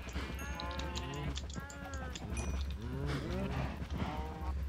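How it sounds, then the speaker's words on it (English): A crowd of cows moos in Minecraft, the blocky game's low, drawn-out calls overlapping one another continuously at close range over a steady ambient hum. "My god, these cows are dirty as fuck."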